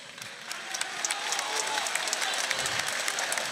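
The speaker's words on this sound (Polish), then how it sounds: "Wielkie brawa, moi drodzy!" Audience applause at a FAME MMA fight event, with dense clapping that swells from moderate to louder and continues steadily from a large crowd, with some faint cheering mixed in.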